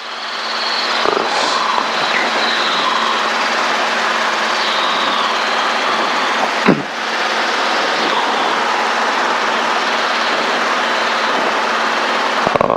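A steady, loud traffic helicopter drone fills the scene from up close, flying over Santa Ana Canyon at 2,600 feet, with a constant engine whine and one brief thump midway; no voices.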